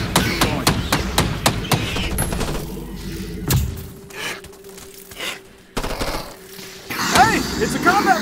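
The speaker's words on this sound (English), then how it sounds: "It's a combat rifle!" A combat rifle fires in the Earthfall video game, a quick run of loud, rhythmic shots followed by scattered thuds and sparse later impacts amid game noise.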